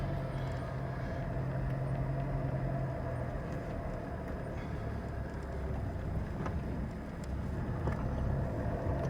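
A 4WD car grinds up a sand dune over jagged limestone rocks, its engine droning in a steady low rumble throughout, with faint knocks and rattles from the cabin and no talking.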